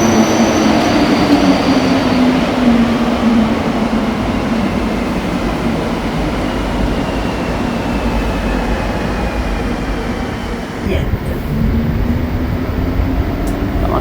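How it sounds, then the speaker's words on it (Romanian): A Montreal metro train rumbles loudly and steadily in the underground at 6 a.m., with a rising and falling whine of the motors and wheels, a brief clunk near the end, heard close and continuous without talk. "Cam așa arată metroul la ora 6 dimineața."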